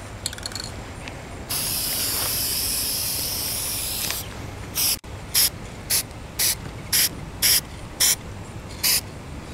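Aerosol spray paint on allium flower heads in a garden: a loud, steady hiss of about two and a half seconds, then a string of short, evenly spaced spray bursts, close up with no talking.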